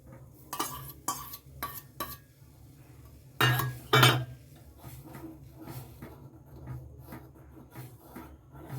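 A spoon stirs milk in a pot, scraping and clinking against the metal in a run of close taps and swirls, with two louder knocks midway and softer stirring after.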